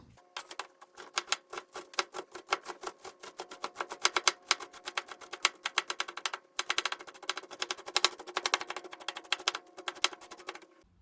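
A knife mincing chili ingredients on a board taps out fast, crisp chops in close, rapid bursts, with a brief pause partway through before the rhythm resumes.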